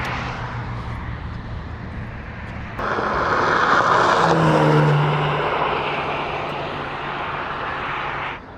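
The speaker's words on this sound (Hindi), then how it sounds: "अभी जस्ट एक गाड़ी गई थी मस्त स्पीड के ऊपर।" At sunset near a bay, a car rushes past at high speed, its engine and tire roar surging loudly and close before fading back into the steady outdoor background, with no voices.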